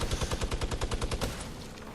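Rapid enemy gunfire in Fortnite, a fast automatic burst of evenly spaced shots, loud and close, running for about a second and a half before trailing off, with no talk.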